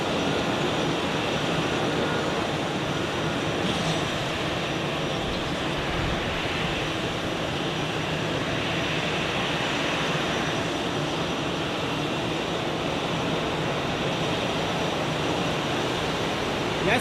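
A Boeing 787-9 jet airliner at Zurich airport produces a steady, loud, broadband engine roar that holds constant for the whole stretch without letting up, with no voices heard.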